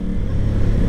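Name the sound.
Aprilia Tuono 660 Factory motorcycle riding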